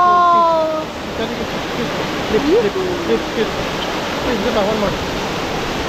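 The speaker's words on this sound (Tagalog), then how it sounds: "Flood Falls." Flood Falls waterfall rushing as a steady, broad wash of water noise close by, with voices speaking over it throughout.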